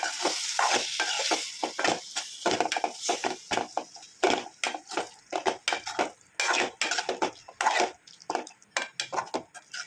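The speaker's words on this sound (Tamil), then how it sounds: "நல்லா மிக்ஸ் பண்ணிடலாம்." Tuna fish masala is stirred in a pan, giving irregular scraping and clinking strokes of a utensil against metal over a faint sizzle. The sound is close and steady at first, then breaks into choppy bursts with no talking.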